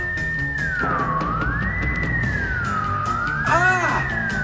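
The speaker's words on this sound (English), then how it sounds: "at once the air is filled with a piercing, ear-splitting sound" A loud, piercing electronic whine sweeps up and down in pitch continuously, with a warbling burst near the end and a low rumble underneath.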